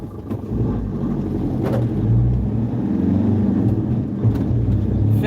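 A black Ferrari pulls up with a steady low engine rumble and a slight rev, close and fairly loud throughout.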